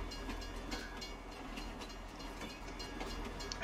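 A train in Farming Simulator 19 rolls past with a continuous rumbling and clattering of wheels on rails, fairly faint and steady, with no talk over it.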